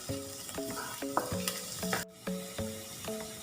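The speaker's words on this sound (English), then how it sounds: "add garlic, add the vegetables and saute it for 3 minutes." Garlic and vegetables sauté in butter in a pan with a steady sizzle, and a spoon scrapes and stirs in repeated strokes.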